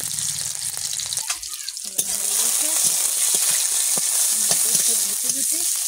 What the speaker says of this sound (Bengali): ফোড়ন দেবো।